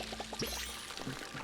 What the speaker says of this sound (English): And we have our tree to water.